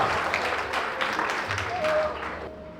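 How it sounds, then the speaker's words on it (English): An audience applauds after a students' dance performance at a Salangai Poojai, steady dense clapping throughout with a voice speaking briefly over it. "I'm sure the students need another round of applause for their outstanding performance"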